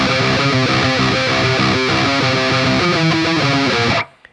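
Dense, heavily distorted metalcore electric guitar intro riff with driving chugs and chords, loud and steady throughout, cutting off abruptly near the end with no voices.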